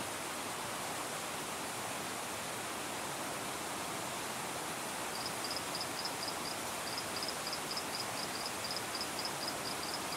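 Heavy monsoon rain pours steadily over a forest while swollen streams rush, making a dense, constant hiss; an insect's rapid chirping pulses join partway through.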